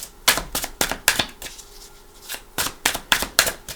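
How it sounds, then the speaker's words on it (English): A deck of cards is riffled and shuffled in quick bursts of crisp flapping, pausing briefly in the middle before more rapid shuffles, close and clear. "Give it a couple shuffles."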